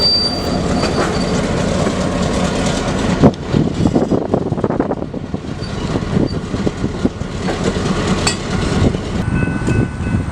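A Santa Fe F7 diesel locomotive train pulls into a station, loud and near, with rumbling wheels, metallic squeals and clatter rising and falling across the passing cars.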